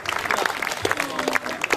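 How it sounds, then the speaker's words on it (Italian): Brief burst of audience applause for women at an Andrea Magini event, busy overlapping claps mixed with crowd voices, fairly close and lively. "Un applauso a tutte le donne"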